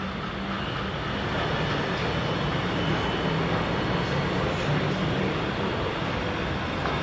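A continuous low rumble and broadband roar of a metro train arriving at an enclosed station on Bangkok's BTS or MRT, steady throughout, with no voices.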